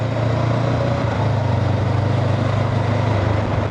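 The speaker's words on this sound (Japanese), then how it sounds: "でエンジン音がいいじゃないですか。" A Honda NX400 400cc motorcycle engine gives a loud, steady, deep pulsing hum throughout with no voices.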